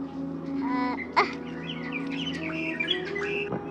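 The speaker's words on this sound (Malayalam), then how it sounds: "ശ്രദ്ധിച്ച് കേട്ടാൽ അറിയാം, പക്ഷികളുടെ ശബ്ദവും" Birds chirp during an early morning walk outdoors, several short tweets and calls scattered over a steady background hum, fairly close and clear, with no speech.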